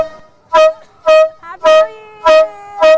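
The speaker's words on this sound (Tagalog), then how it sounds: "meron din daw sila ng giant air horn na tulad nito na binobomba lang" Five loud, evenly spaced honks come from a giant hand-pumped air horn blown for New Year, each a bright, buzzing blast lasting a fraction of a second, with short gaps between them.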